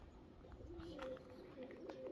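Pigeons coo softly in short, low, rolling calls that repeat several times at a moderate distance over a faint steady background.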